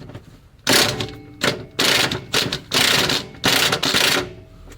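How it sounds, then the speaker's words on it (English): Bolts on a Nissan 350Z transmission mount being loosened: about six loud, rapid rattling bursts of a power tool, each lasting around half a second, separated by short pauses, close up with no talk. "Now we're just gonna loosen these bolts."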